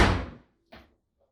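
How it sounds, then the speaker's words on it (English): Two quick thuds of a door slammed shut during a tabletop game, a loud hard bang followed by a fainter, shorter knock, with no talk. "I'm going to slam shut the living room."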